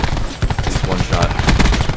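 Rapid gunfire from the Call of Duty Black Ops 4 video game in a 2v2 gunfight match, dense, loud bursts of shots running throughout under brief speech.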